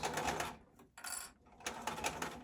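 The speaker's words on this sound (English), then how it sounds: "now we are going to want to go forward and reverse to lock the stitch" A sewing machine stitching a fabric mask runs in three fast, buzzing bursts with short pauses between them as it sews forward and then in reverse, loud and close.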